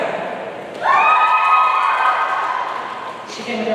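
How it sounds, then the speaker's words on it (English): A graduation ceremony crowd breaks into cheering and shouting that swells suddenly and stays loud and sustained, with no one speaking over it. "She came with her own cheering in the squad."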